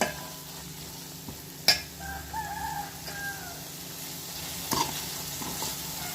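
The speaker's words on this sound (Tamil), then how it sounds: "அதையும் சேர்த்து நல்லா வதக்கி விட்டுக்குவோம்." Onion and tomato sautéed with red chilli powder in a pan for a fish curry: a soft continuous sizzle with a few sharp stirring clinks, a rooster crowing faintly in the background, no voices.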